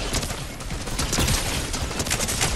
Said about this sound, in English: Oh, shooting up ahead.